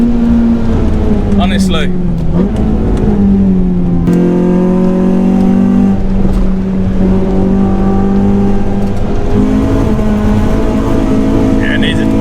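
A Renault Clio 182 engine drones and revs under load while driving, its pitch dipping and climbing across gear changes. Someone talks over the loud cabin noise.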